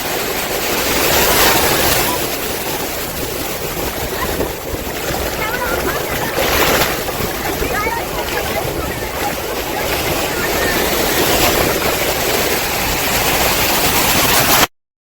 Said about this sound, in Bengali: ঢেউ ভালোই আছে।